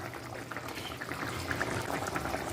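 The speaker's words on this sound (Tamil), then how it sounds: "நல்லா குழம்பு கொதித்து திக்காயிடுச்சு" Thick okra and tamarind curry simmers in a pot, giving a soft, continuous bubbling with small pops close by, fairly quiet and with no talking.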